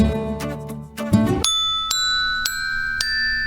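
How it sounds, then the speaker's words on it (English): Bright glockenspiel notes struck one after another in a kids' educational music game, a few evenly spaced chime-like dings ringing out clearly after a short run of denser tones. "The glockenspiel has a higher ding than most instruments."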